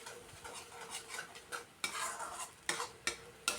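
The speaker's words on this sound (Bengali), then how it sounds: "শস্য আর চারমগজের পেস্টটা দিয়েও কিছুক্ষণ এটাকে কষিয়ে নেব।" A paste of ground mustard and melon seeds is stir-fried with tomato in a pan, soft sizzling under repeated spatula scrapes that come in sharp, uneven strokes.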